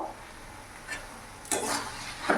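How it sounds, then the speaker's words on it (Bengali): Boiled soybeans being sautéed in a spice masala in a pan, a steady low sizzle with a few louder scraping stirs near the end. "দিয়ে ভালো করে কষিয়ে নেবো"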